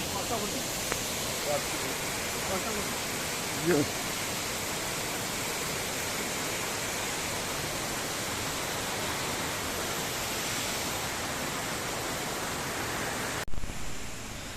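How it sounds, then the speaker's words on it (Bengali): A waterfall in Meghalaya roars as a dense, continuous rush of clear water, loud and unbroken, with a brief knock near the end. "এই হলো আপনার ফলস"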